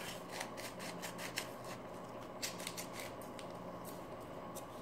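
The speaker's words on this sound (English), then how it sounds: "you're gonna cut the white in half" Scissors snip through white athletic tape in a quiet room, a series of crisp, irregular cutting strokes that stay faint and close against a soft background hiss.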